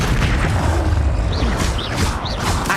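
A Confringo explosion spell bursts in the video game Hogwarts Legacy, loud booming blasts and crackling impacts layered over dense combat noise, with short whooshing swirls near the end.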